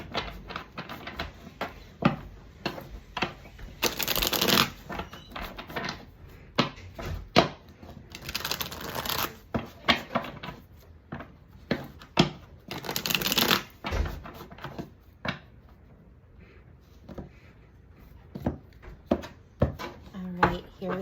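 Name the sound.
shuffling tarot cards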